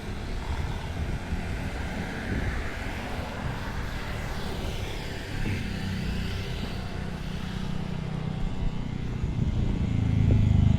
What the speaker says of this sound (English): Stupid exhaust on a scooter.